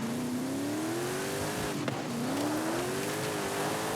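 A race car in Forza Horizon 5 is pushed at full throttle through a corner, its engine whining and rising in pitch, dipping briefly as it shifts, then climbing again with faint tire noise and no voices.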